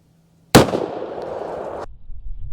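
One loud, close gunshot from a .30 carbine firing Critical Defense 110 grain ammunition at watermelons, a sharp crack followed by a broad ringing noisy tail that stops abruptly after about two seconds.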